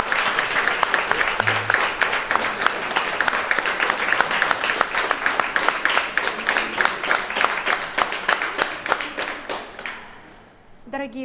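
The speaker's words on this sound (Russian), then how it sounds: "Ну, а Татьяну Николаевну я под ваши аплодисменты хочу поблагодарить за великолепные комментарии" A concert audience at the Hermitage-Ural Centre gives sustained, dense applause with many hands clapping in a fairly steady rhythm. It stays loud for about ten seconds, then quickly dies away.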